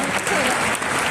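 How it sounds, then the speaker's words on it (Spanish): An audience applauds a social-media specialist at a talk, sustained dense clapping filling the whole short stretch at steady loudness. "un fuerte aplauso para Edelsa Racén,"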